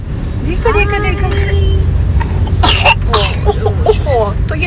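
A small child coughs once or twice in a short burst near the microphone, over steady low traffic rumble, with a voice talking around it.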